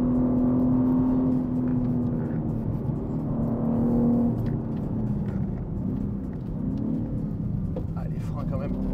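A BMW M3 Touring engine hums steadily from inside the car while driving, its tone rising and falling gently beneath continuous conversation between occupants.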